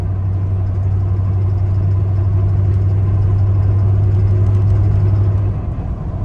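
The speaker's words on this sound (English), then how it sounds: "That sounds like something in the engine." A 1997 Ram 1500 pickup engine idles with a deep, steady rumble and a slightly uneven, rough churn, close and loud throughout.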